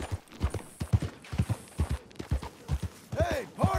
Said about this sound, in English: That horse can move.